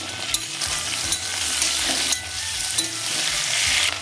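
Potatoes sizzle steadily in an oil-filled pan with green chilli and ginger paste, a close, continuous frying hiss with occasional stirring scrapes and no talk.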